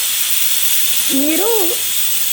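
A pressure cooker on the stove vents steam in a loud, continuous hiss while a masala kichidi cooks, with a short rising-and-falling whistle-like tone partway through.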